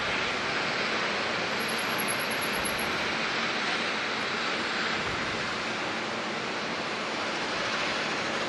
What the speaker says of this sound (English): we've got NZ 559 to Christchurch pulling onto the runway.